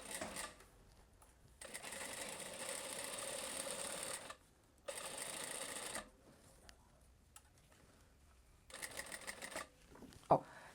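Sewing machine stitching the neckline of a blouse, running in several short bursts with quiet pauses between them, plus a sharp click near the end; close and fairly soft.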